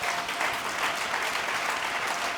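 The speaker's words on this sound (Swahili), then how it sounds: "Naomba tumpigie tena Roho wa Yesu makofi." A church congregation at a Pentecostal service bursts into dense, sustained applause, many hands clapping together in a steady roar from close by, with no voices rising above it.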